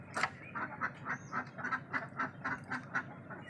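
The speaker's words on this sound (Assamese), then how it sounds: "এইবাৰ গৈছে হাঁহ মুৰ্গী এৰি দিব" Ducks being let out with chickens quack in a rapid, rhythmic series of nasal calls, close by and steady across the whole span, without talk.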